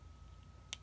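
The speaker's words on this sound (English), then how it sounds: "And then you just click it again to get it" A ParKoo erasable gel pen is clicked closed, a single short, faint click close by against a quiet background hum.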